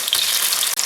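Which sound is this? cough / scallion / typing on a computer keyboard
scallion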